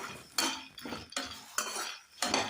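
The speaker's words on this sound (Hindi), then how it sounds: "यहाँ पर घी नहीं डाला हमने, ऐसे ही भून रहे इनको, ये कड़क से हो जाएंगे।" Makhana (fox nuts) dry-roasting in a pan without ghee, with a spoon stirring and scraping in bursts of rattling, clinking strokes, about four or five in quick succession, close up and with no voices.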